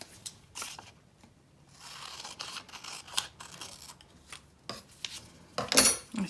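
Scissors trimming the edge of a paper pop-up friendship card, giving scattered quiet snips and paper rustles up close, ending in a sharper, brighter cut near the finish.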